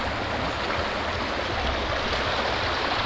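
Water rushing steadily near a road in Westmoreland, Jamaica after Hurricane Melissa, a loud continuous broadband roar with no breaks.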